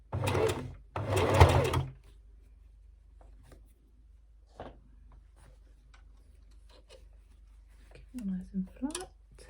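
A sewing machine base-stitching a collar onto a polka dot doll dress runs in short bursts with faint mechanical ticks, quiet and close, while a voice talks at the start and near the end.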